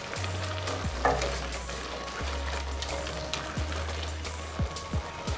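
Green vegetables stirred in a tablespoon of oil in a pan, with a steady close sizzle and a few utensil scrapes and knocks, no voices.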